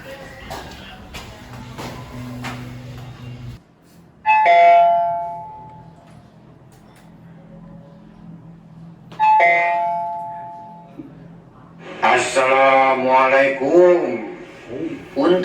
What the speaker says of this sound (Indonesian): bel pintu sudah siap digunakan